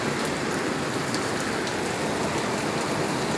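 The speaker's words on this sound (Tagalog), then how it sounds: "malakas na naman yung ulan" Heavy morning rain pours steadily onto a rooftop, a loud, unbroken hiss of dense drops that fills the whole stretch without any voices.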